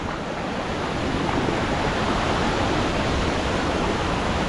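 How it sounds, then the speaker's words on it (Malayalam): Steady, loud roar of rushing water, a dense broadband wash with no breaks and no voices, like a powerful waterfall heard close by. "അതിശക്തമായിട്ടോ വെള്ളച്ചാട്ടം ഒഴുകി വരുന്നത് ഭയങ്കര സൗണ്ട്"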